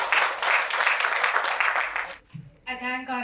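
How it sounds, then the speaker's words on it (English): Audience applause fills a conference hall at the close of a panel discussion on human security, a dense wash of clapping that stops abruptly, followed by a brief pause and then a voice speaking. "Can we give a big applause to all of them?"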